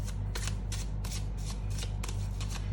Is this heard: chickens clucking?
no